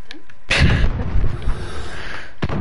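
Loud gunfire from the Modern Warfare video game bursts in close, a sustained burst of shots for about two seconds, then a final sharp report.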